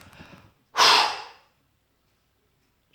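A person exhales forcefully in one long, close, breathy blow during a relaxation breathing exercise, following a brief stretch of softer breathing, then quiet.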